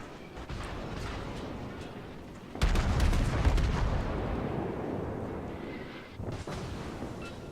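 The Nurnberg cruiser fires its guns in World of Warships, with a heavy booming salvo partway through that rolls off into rumbling, and a smaller report near the end, over steady ambient game noise.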